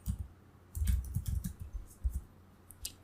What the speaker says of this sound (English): you open up your command terminal and then type ipconfig.